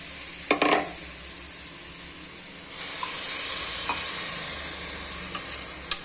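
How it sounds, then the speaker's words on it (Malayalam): Chopped plantain hits a hot pan in home Indian cooking and sizzles, a loud steady frying hiss that swells midway, with occasional scrapes and clinks of stirring. "അരിഞ്ഞ കായ അങ്ങോട്ട് ഇട്ട് അത് ഇളക്കുക."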